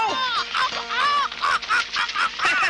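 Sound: crow calling

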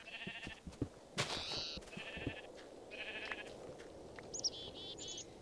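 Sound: sheep bleating in video game Minecraft Tekkit

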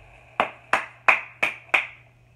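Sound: hands clapping

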